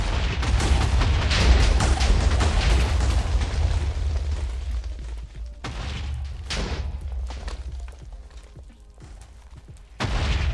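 Rocket launcher explosions in Minecraft, heavy booming blasts and rumbling bursts running almost continuously and loud, easing slightly before another hit near the end.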